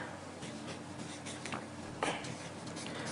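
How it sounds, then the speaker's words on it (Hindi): A pen scratches faintly across a sheet of paper while a name is written. The scrapes are soft and close, with a few sharper strokes and no speech. "उसका नाम आपको इस कागज पर लिखना है।"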